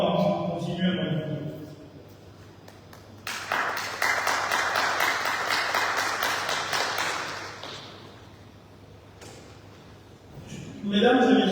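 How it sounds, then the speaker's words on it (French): Audience applause at a hotel gathering with the governor of Ngazidja, a dense patter of clapping that swells after a voice, holds for several seconds, then fades before speech resumes. "j'aimerais sincèrement que vous les applaudissions très chaleureusement"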